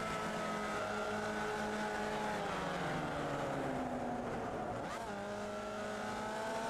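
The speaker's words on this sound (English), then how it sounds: "You can hear Robbie Wright's car engine just in the background." Formula Vee race cars during a trophy race: a continuous, strident engine drone with rising and falling pitch as the cars accelerate and lift, one passing sweep midway, steady and fairly loud throughout.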